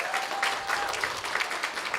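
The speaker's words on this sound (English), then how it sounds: "So now let us applaud and welcome our new" A church congregation applauds to welcome new members at a Passover and Easter service, a steady, moderately loud patter of many hands clapping throughout.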